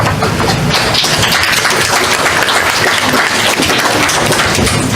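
Audience at a school board meeting applauds steadily, a dense, loud wash of many hands clapping that holds evenly from start to finish.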